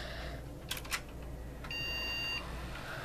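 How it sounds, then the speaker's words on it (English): Old PC boots up with a couple of short bright beeps followed by a sustained electronic tone, heard up close over a low hum of fans. "it's beeping like crazy, which is super annoying"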